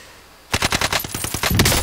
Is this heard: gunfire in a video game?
yes